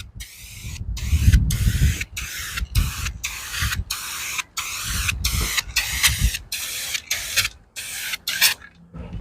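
Spray paint can with a partly clogged nozzle spraying in repeated short bursts with brief gaps, a rough uneven hiss, close and fairly loud, used while building a custom car called Subzila.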